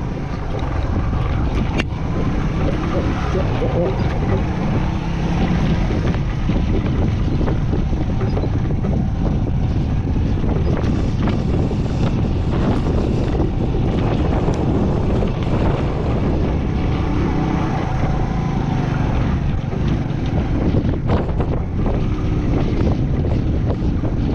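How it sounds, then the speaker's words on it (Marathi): Strong wind buffets the microphone on a rough mountain road in Spiti valley, a loud, continuous roar and rumble with gusty fluctuations and no voices. "वारं कसलं सुटलंय पण"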